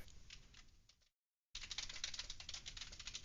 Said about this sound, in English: Oh, I hear typing